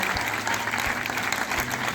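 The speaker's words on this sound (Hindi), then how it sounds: "तो एक बार जोरदार तालियों से हम लोग स्वागत करते हैं वर्मा सर का।" Students at a school science session in Prayagraj break into loud, dense applause welcoming a guest professor, a steady roar of many hands clapping close and strong.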